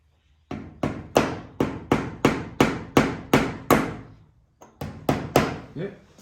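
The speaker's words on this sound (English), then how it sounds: "A bit tricky getting these screws in, these nails in there" Hammer driving nails into an antique mirror frame during restoration, a close, loud run of about a dozen sharp evenly spaced blows, a brief pause, then a few more strikes.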